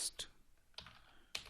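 A few scattered keystrokes tapped on a computer keyboard while coding an Android list view layout, soft and close, accompanied by speech.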